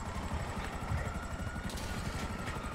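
Police helicopter in GTA Online, a steady, dense rotor thrum and engine whine close by, droning continuously without pause.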